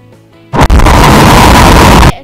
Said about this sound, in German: Die Explosion.